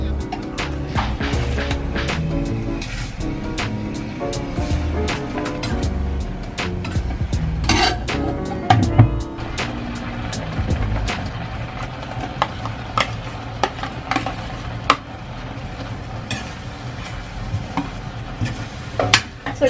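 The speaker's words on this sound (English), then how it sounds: "it's time to cook the oatmeal" Oatmeal cooks in a pot while a utensil stirs it, giving a steady low bubbling and sizzling bed, broken by many sharp scraping taps against the pot's sides and bottom, close by and with no talking.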